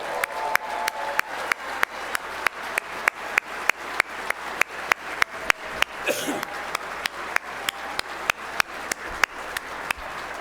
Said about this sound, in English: big round of applause for our athletes